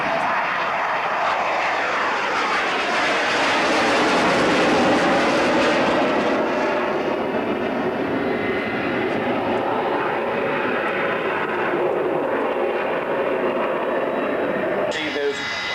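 Avro Vulcan bomber flying past at an airshow at Boscombe Down, a loud, sustained broadband jet roar with sweeping, shifting engine tones as it passes close overhead.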